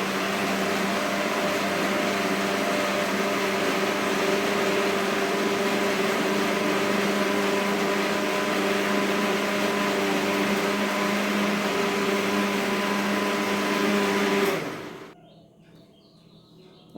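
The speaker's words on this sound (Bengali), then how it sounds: "আমি এটা ব্লেন্ডার করে এই মুহূর্তে নিয়ে আসতেছি" An electric blender whirs steadily while blending dates, almonds and milk, a loud, even motor drone that runs for many seconds and then cuts off abruptly into quiet.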